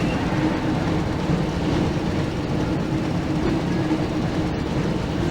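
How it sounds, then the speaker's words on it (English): A train rumbles steadily in a tunnel in the PS1 Harry Potter and the Chamber of Secrets video game, a loud continuous roar with faint clattering, heard alone with no talk. "Looks like we found the train, Ron."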